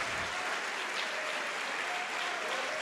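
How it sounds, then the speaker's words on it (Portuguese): A church congregation applauds in a continuous, even wash of clapping that holds steady throughout, heard at a distance and fairly faint, with no voices over it. "Então vamos aplaudir ao Senhor Jesus, porque Ele é Deus."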